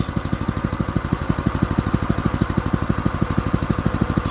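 A Honda GX clone small engine idles just after starting, a steady fast putter of even pulses, loud and close with no other sounds.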